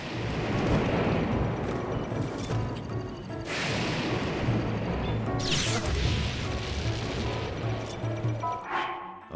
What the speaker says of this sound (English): alright, I'm gonna kill this thing with lightning.